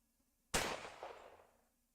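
A single gunshot during a tabletop RPG session of Strength of Thousands near a city academy, a sharp sudden crack followed by a long reverberant decay, heard alone with no talk.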